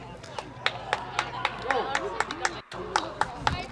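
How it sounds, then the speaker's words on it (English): Scattered, sparse handclaps from a small crowd of home fans at a high school baseball game, with an announcer talking over them and a brief gap near the end. "Delayed applause from the home Hounds fans."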